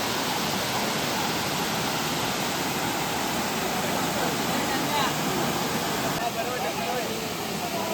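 A hidden waterfall at Poynad near Alibaug roars as a steady, dense rush of falling water that fills the whole scene without a break.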